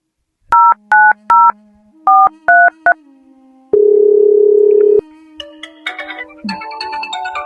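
Loud, close telephone keypad tones beep in quick groups as a number is dialed over a steady dial tone, followed by a long held tone and then a ringing signal while the call connects.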